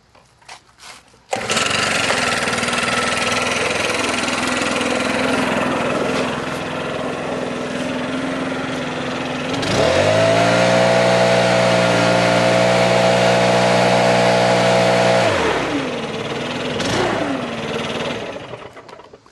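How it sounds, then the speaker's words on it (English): A Stihl BR700 backpack leaf blower roars loud and close with a steady, dense engine tone, throttles up to a higher, harder whine for several seconds, then drops back to a lower idle-like drone before tapering off. "next up, we're going to do my Stihl BR700 backpack blower."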